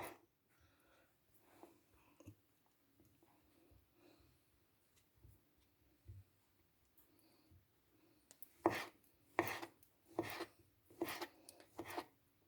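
Sharp knife chops on a cutting board, slicing sausages into rounds, a quick run of about six firm cuts near the end after quieter scraping and handling.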